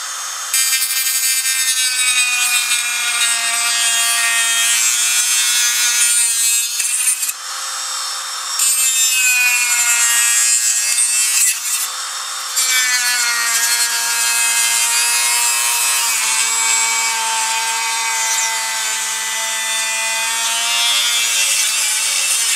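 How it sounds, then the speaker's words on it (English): A Dremel rotary tool cuts across a Castle fan housing for a Traxxas X-Maxx, producing a loud, continuous high-pitched whine with rasping, grinding texture that wavers as the cut progresses, with short dips in pitch and level. "I'm going to cut this here right across with the Dremel."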